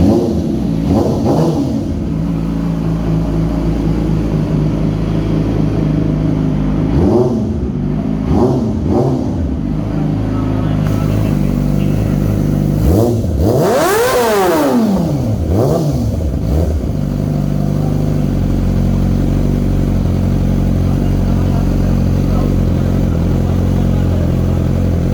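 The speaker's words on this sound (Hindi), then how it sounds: "तो जल्दी से बाइक को स्टार्ट करते हैं और चेक करवाते" A Yamaha R6 sport motorcycle's engine starts up and revs repeatedly up close, with sharp rising and falling throttle blips over a steady idle, loud and without talk.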